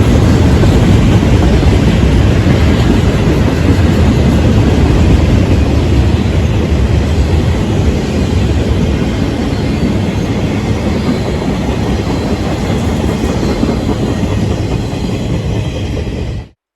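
Freight train W011, led by a pair of EMD SD40-2 locomotives, moves slowly through Worthington, Ohio toward Parsons Yard in Columbus, making a loud, steady, close rumble of engines and rolling cars that continues unbroken until it cuts off.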